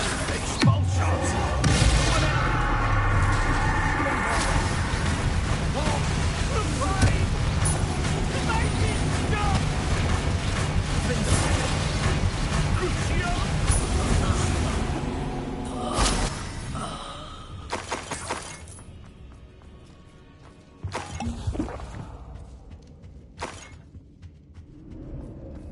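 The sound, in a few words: spell explosions from the video game Hogwarts Legacy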